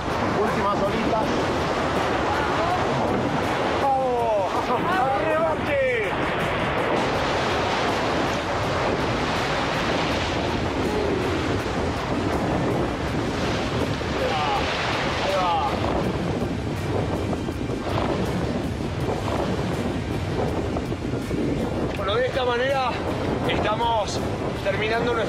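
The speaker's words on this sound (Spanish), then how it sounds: "Terminando nuestra primera aventura en Mendoza, aquí en el río, con Rodo y Sofi, rafting." River water rushes loudly and steadily during a rafting trip in Mendoza, Argentina, with wind buffeting the microphone and people talking throughout.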